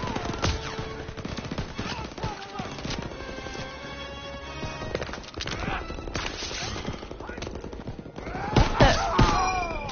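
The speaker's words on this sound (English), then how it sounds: "Where's the machine gun?" Machine-gun fire and scattered gunshots in Call of Duty WWII, dense bursts throughout over battle noise, with a louder flurry near the end.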